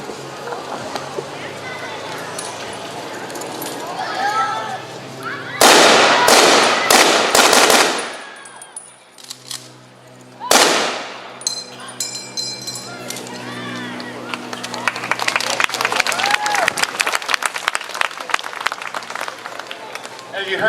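A WW2 rifle at an outdoor historic weapons event fires a loud burst of close shots, followed by the bright metallic ping of the ejected en-bloc clip, amid crowd noise and chatter.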